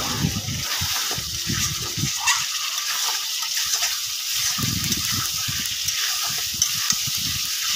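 Beef being stir-fried in oil in the Bengali kosha style, with a constant loud frying hiss and repeated low thumping bursts of stirring and scraping in the pan.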